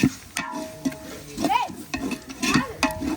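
Chopped onions frying in a pan with chilli powder and garam masala for biryani, stirred with a spoon: steady close sizzling broken by repeated scraping strokes, with faint voices in the background.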